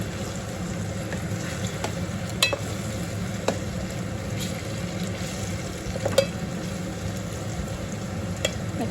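Brinjal frying in plenty of oil, a steady close-up sizzle with a soft bubbling bed and occasional sharp pops and clicks scattered throughout.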